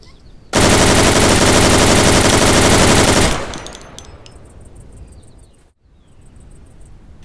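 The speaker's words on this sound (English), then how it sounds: "That forwards and backwards motion when you fire the gun is really cool." A long burst of automatic gunfire from the video game Deadside rips out loud and dense for about three seconds. It cuts off to quiet ambience with faint insect and bird-like chirps.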